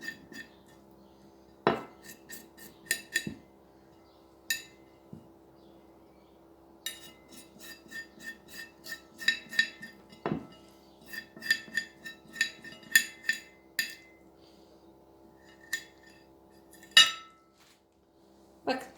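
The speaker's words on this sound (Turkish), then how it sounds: "İçinde hiçbir şekilde jel bırakmayacak şekilde iyice kazıyoruz." A metal utensil scrapes gel from inside an aloe-like plant leaf, producing intermittent scratchy rasps and sharp clinks against a bowl in irregular bursts, close and fairly quiet with pauses between strokes.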